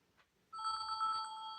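A phone ringtone starts abruptly after a near-silent moment and keeps ringing: a steady, clear electronic ring with pulsing tones, close and fairly loud, with no talk over it.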